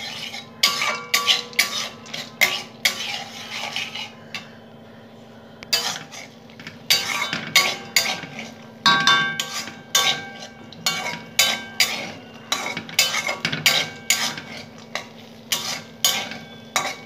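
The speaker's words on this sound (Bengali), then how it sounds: "ভালো করে নেড়ে নেব পাস্তাটাকে" A spoon stirs pasta fried in ghee in a pan for sweet pasta payesh, making close, rhythmic clinks and scrapes against the metal in steady bursts with short pauses and no talking.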